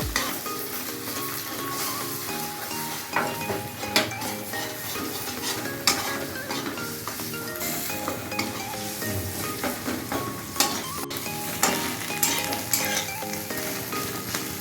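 Egg and mixed vegetables stir-frying in a pan for chow mein, a steady loud sizzle with rhythmic scraping and clinks of a spatula throughout, close up and uninterrupted by speech.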